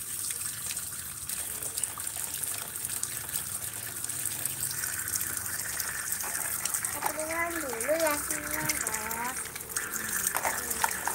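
A toy splashes and paddles in water, giving a continuous gushing, trickling wash through the whole stretch, with a voice rising over it near the end.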